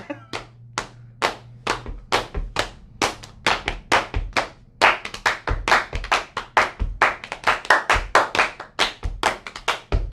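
A studio audience claps in time, with sharp, close, loud claps in a steady rhythm that quickens and grows denser in the second half, and no talking over them.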